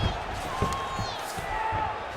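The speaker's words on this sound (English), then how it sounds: "Crowd pops as Jedrzejczyk gets back to her feet" Arena crowd in EA Sports UFC 5 during a women's fight between Joanna Jedrzejczyk and Angela Hill, a steady roar of cheering that swells briefly, with faint game sounds mixed in.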